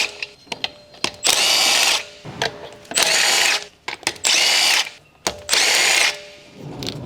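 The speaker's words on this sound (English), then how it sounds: "Using the large 23mm short socket, large short extension bar, and large electric impact wrench, remove the front wheel lug nuts" A large electric impact wrench with a 23mm short socket and short extension spins off the front wheel lug nuts on a Dodge Ram 1500, in several loud close bursts of whirring hammering separated by clicks and short pauses.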